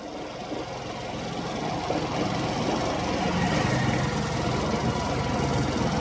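A Suzuki Access 125 scooter with a slow-speed problem idles steadily up close, a continuous low engine drone with a dense, slightly rough texture and no voices.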